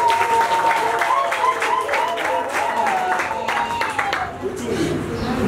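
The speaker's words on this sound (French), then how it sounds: "Applaudissez" Applause at a wedding ceremony in Bujumbura, Burundi, a crowd clapping loudly and steadily while voices and a sustained tone carry over it.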